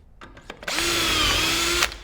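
A power drill whirs steadily into a wooden nightstand frame piece for about a second, preceded by a few quick clicks and ending abruptly, close and loud.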